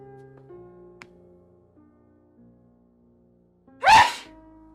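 A single loud, sharp sneeze bursts out near the end after a stretch of quiet low hum and a faint click.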